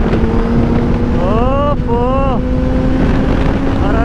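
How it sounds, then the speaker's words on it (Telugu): A Kawasaki ZX10R Honeycomb Edition superbike races at high speed, its steady engine drone buried under heavy wind roar, with a short voice exclamation partway through. "10R ట్రాక్ మెషిన్ బైక్ ఇది, అసలు నెక్స్ట్ లెవెల్ అంటే నెక్స్ట్ లెవెల్ ఉంది స్పీడ్"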